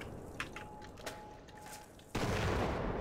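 Gunfire aimed at gates in the co-op shooter Sven Co-op: a few sharp, scattered shots, then a sudden loud, sustained burst of noisy firing or blasting that fills the rest.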